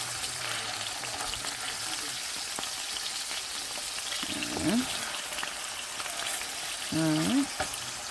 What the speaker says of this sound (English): we're just going to brown it